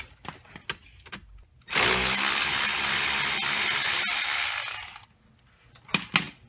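A power driver removes screws from a Pontiac G6 GT steering column: a few small clicks and taps, then a loud steady whir lasting about three seconds, followed by more light metallic clicks.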